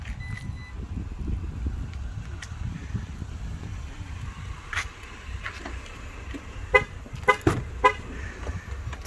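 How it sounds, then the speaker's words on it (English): A 2022 Jeep Grand Cherokee Limited sounds several short, faint horn chirps near the end, set against a steady low idle rumble with the key fob outside the vehicle. "Honking because I have the keys in my hand instead of inside, letting me know it's still running."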